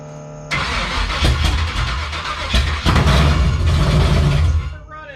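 A carbureted Chevy Nova engine cranks, catches and keeps running with a loud, rough, uneven idle and a few blips of throttle, close by, cutting out near the end.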